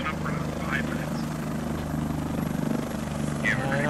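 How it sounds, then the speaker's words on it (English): A military helicopter flies slowly in a combat video game, its rotor chop a continuous, fairly loud throbbing drone, with brief bursts of voices or radio chatter over it. "Helicopter going way too slow near the active point"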